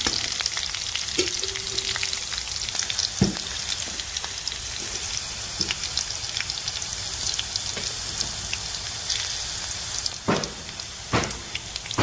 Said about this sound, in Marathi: आता आपण मिरची परतून घेऊया